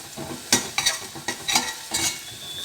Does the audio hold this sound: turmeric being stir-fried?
yes